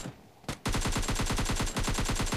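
A rapid, loud burst of automatic AK rifle fire in a shooting video game, with evenly spaced cracks in a steady rhythm lasting nearly two seconds after a brief quiet start.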